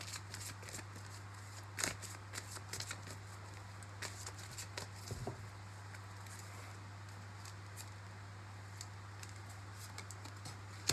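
Energy cards being shuffled by hand ahead of a card pull, a soft steady riffle and rustle with a few sharper snaps, heard close and quiet over a constant low mains hum.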